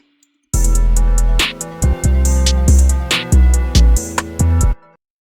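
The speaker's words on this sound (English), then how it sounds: "to emphasize some of the notes, we're going to get this open hat" Trap beat of heavy 808 bass, snares and rolling hi-hats, now with an open hi-hat added for accents; loud and upfront, starting after a brief silence and stopping sharply before the end.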